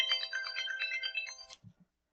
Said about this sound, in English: my phone goes off while I'm in the middle of editing the video